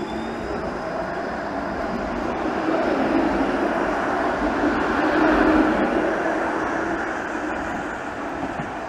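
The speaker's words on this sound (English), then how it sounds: "As that streetcar starts creeping through the red light." A Toronto streetcar on Gerrard Street creeps through a red light at an intersection, a steady low rumble with broad rail and motor noise that swells slightly midway and then eases, with no talking.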